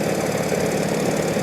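Engine of a 1948 Indian motorcycle being ridden on a New Jersey backcountry road at about 40 to 45 mph, a steady loud rumbling drone with rapid pulsing firing beats throughout.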